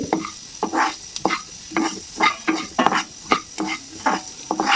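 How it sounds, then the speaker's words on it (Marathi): Coriander seeds sizzle and crackle in a pan as a spoon stirs them in quick, repeated scraping strokes, close and fairly loud. "आपण इथे धणे परतून घेणार आहोत छान हलकेशी परतू द्यायचे"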